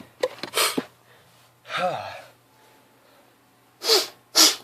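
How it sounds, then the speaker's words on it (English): A sharp sneeze preceded by a quick gasping inhale, followed by a second burst and snort-like breaths, close and loud. "I sneezed kind of weirdly"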